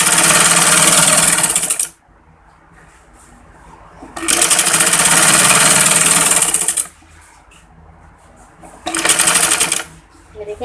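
An electric sewing machine stitches a trouser hem in three loud, steady whirring runs separated by quiet pauses, with someone speaking in the gaps.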